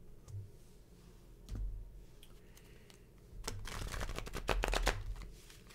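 Tarot cards are shuffled close to the mic, soft rustling at first, then a burst of rapid riffling clicks near the end; no speech.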